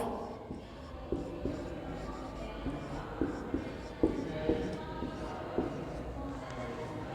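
A teacher writes on the board during a class 8 science lesson, making intermittent scratchy strokes and light taps against a steady, faint room background.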